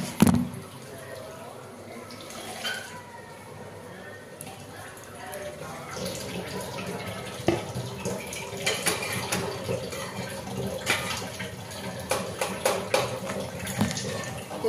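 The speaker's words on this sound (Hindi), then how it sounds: "इसमें मैंने थोड़ा सा पानी और ऐड कर दिया है" Water splashing and pouring into a cooking pot of kachri fruit, a steady liquid rush with clinks, while a person talks throughout.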